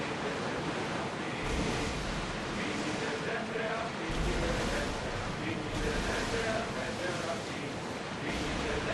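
A ship surges through rolling ocean waves in Assassin's Creed Odyssey, with a steady broadband wash of surf and wind that swells and ebbs in gentle surges over the whole stretch.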